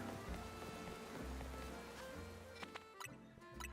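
Rain falling steadily in Pokemon Legends Z-A, a dense, even hiss of drops on surfaces that runs throughout with low rumbling beneath and a few sharper clicks near the end, fairly quiet.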